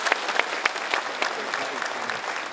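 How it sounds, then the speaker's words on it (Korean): Audience applause at a provincial government town-hall meeting in Seongju, a spread of many hands clapping at steady moderate volume through the whole stretch, with a few sharper claps standing out early on. "크게 박수 한번 주시면 고맙겠습니다"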